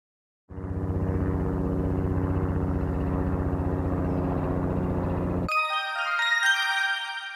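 A Robinson R44 helicopter drones loudly and steadily overhead, its rotor beating in a rapid low pulse, then cuts off as a brief electronic chime plays.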